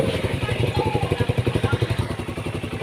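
A Honda CB150R motorcycle engine runs normally after its charging spool was replaced, with a close, steady, rapid pulsing putter at a fast idle and a mechanical clatter over it.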